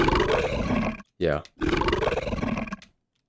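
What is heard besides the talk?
pitched-down lion roar sound effect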